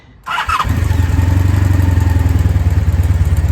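A 1984-85 Honda V65 Sabre motorcycle engine starts at once after a short cranking click, then settles into a loud, close, steady idle with a rapid, even pulsing throb.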